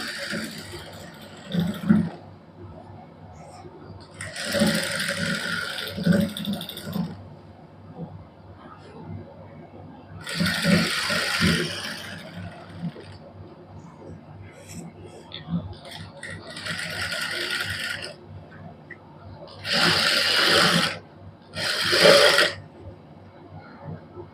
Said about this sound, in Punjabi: ਹੁਣ ਆਪਾਂ ਇਧਰਲੀ ਸਾਈਡ ਤੋਂ ਇਸ ਤਰ੍ਹਾਂ ਸਲਾਈ ਲਾਵਾਂਗੇ ਜਿਹੜੀ ਪਹਿਲਾਂ ਵਾਲੀ ਸਲਾਈ ਲੱਗੀ ਹੈ ਉਹਦੇ ਉੱਪਰ ਹੀ ਲਾਵਾਂਗੇ